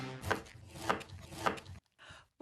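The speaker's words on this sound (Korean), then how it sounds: "꽁꽁한 냉동 고기도 가볍게 쓱쓱!" A serrated wave-edge kitchen knife saws through frozen meat in three close, rhythmic strokes, followed by a brief silence and a short final scrape.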